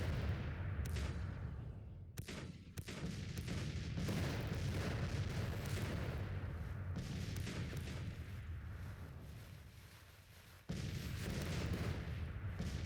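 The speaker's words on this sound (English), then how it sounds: "I expect counter battery fire." Civil War artillery batteries exchanging counter-battery fire in Grand Tactician: The Civil War, a continuous rumble of cannon booms and scattered gunshots, several sharp blasts standing out, dense and fairly loud, with no voices.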